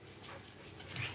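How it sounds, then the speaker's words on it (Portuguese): Several dogs whimpering and yipping softly nearby on a cold farm property, a faint continuous whine rising slightly toward the end of the short stretch. "Só observando aqui a cachorrada, ó."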